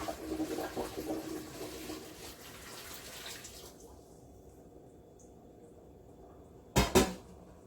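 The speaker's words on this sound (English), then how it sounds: "just take the pot and pour the water out" Water splashes and pours out of a pot steadily for a few seconds after washing apples, then fades to quiet, followed by a brief loud clatter near the end.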